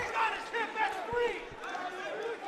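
A crowd at a high school wrestling match reacts to a near takedown, with overlapping shouts and yelling voices rising and falling in waves and a couple of dull thumps from the mat.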